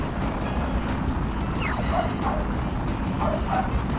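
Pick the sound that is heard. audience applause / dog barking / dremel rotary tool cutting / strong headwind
dog barking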